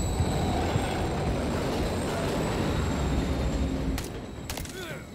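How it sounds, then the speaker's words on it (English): A train rumbles by in a Modern Warfare 3 game scene, heavy continuous rolling roar with rattling wheels, loud and close, easing off near the end where sharp metallic clanks break through. "Another train coming."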